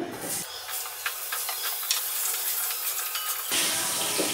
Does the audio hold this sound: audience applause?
no